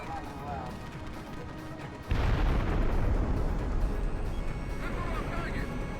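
A missile strikes its target in the Ace Combat X flight game: a sudden heavy explosion breaks in midway and rolls on as a loud, sustained roaring rumble over continuous engine drone.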